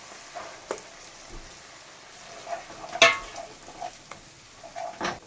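Tomato and a ginger, cumin and coriander spice paste with a dried chili and bay leaf sizzle softly in a pan, while scattered scrapes and clicks from stirring cut through the steady hiss.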